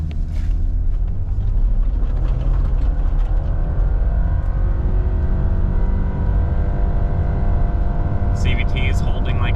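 A 2023 Subaru Crosstrek Premium with a CVT accelerating hard from a standstill at about 3,400 feet altitude: a steady, loud engine drone with rising harmonic tones and wind rush, continuous throughout, with a voice speaking over it.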